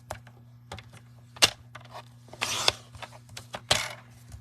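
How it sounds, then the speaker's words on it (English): A paper trimmer slices a sheet at the 1-inch mark, giving a few sharp clicks and two longer rasping blade swipes, close and fairly loud, with quiet handling in between. "I'm going to cut first at 1 inch"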